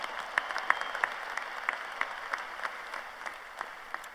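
Scattered applause from a crowd at a university spring commencement ceremony, moderate and somewhat distant, with individual sharp claps standing out over a continuous soft patter.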